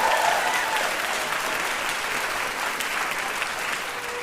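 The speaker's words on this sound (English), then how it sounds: "Huge round of applause for Bonnie." A live studio audience at a comedy talk show claps in a sustained, even wash of applause that holds steady from start to finish without any voices.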